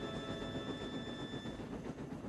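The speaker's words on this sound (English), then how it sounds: "The engines puffed proudly with the coaches singing behind" Steam engines pulling a train of coaches, a steady, close rumbling rattle and chugging roar that runs without a break from start to end, with no voices.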